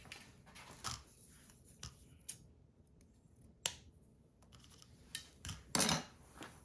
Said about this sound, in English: Let me cut that off.